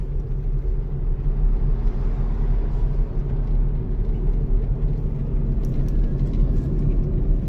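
A car engine cruising in top gear gives a steady, continuous low rumble throughout, with road noise and no speech.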